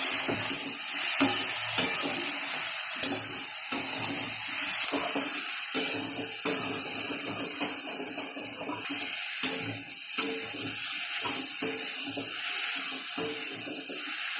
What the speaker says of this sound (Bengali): জিরে আর ধনের গুঁড়ো একসাথে দিয়ে দিলাম, চিনি দিয়ে দিলাম, দিয়ে এবার নাড়াচাড়া করবো।